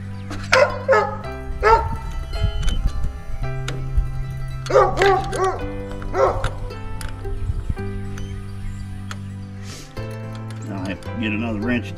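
A nearby dog gives several clusters of loud barks and yips spread across the clip, with steady background noise from a work area where something is being tightened with wrenches.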